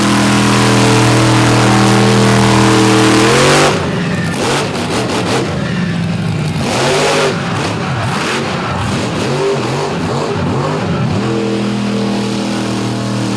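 A faulty monster truck engine roars and revs loudly at a Benson, North Carolina show, its note rough and uneven as it rises and falls, with no voices over it.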